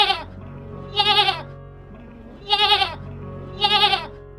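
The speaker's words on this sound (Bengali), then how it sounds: "আরে আরে, এখানে কোন ছাগল ডাকছে?" A young goat kid bleats three times in short, wavering cries spaced about a second apart, loud and close over a quiet background.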